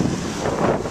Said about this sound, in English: it's just windy, which you can probably hear